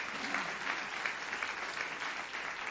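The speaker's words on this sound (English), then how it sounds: "Please give a big round of applause for Mariana De Bernardini." Steady applause from an audience at an award ceremony, a dense wash of clapping that holds at an even level for a few seconds.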